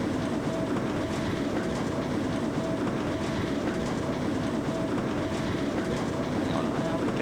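A train in the Trainz railway game on Xbox Series X, on a Scottish East Coast Main Line dock route, runs with a continuous close rumble and rhythmic wheel clatter, steady throughout with no talk.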